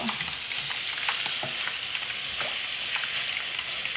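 Bacon sizzles in a pan as it slowly renders over moderate heat, a close, continuous crackling hiss with scattered pops and a few light clicks of tongs, no voices.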